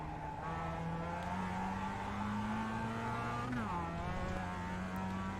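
A Mazda Miata engine in iRacing at Tsukuba drones steadily under throttle, its pitch slowly climbing, then dipping briefly at a gear shift before rising again.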